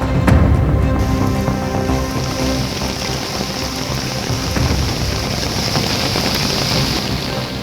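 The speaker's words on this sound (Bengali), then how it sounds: "কলকাতার বিভিন্ন জায়গায় প্রবল বৃষ্টি শুরু হয়েছে, সঙ্গে দমকা হওয়া।" Heavy rain pours onto a Kolkata street amid gusty wind, a loud dense roar that is constant throughout, with a sharp knock near the beginning and no voices.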